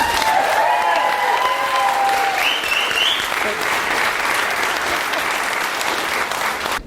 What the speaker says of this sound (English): So give Rachel a big round of applause.